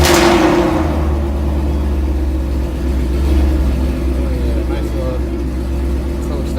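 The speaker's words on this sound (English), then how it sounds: "Go ahead and start the car up." A Ford Mustang GT engine catches and settles into a deep, steady idle rumble close by, with a voice talking over it.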